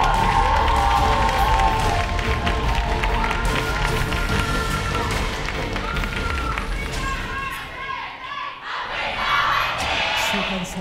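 A large indoor esports crowd at a League of Legends LCK match in Gangnam, Seoul roars and cheers loudly and continuously, with clapping and shouts blending into a dense wall of noise.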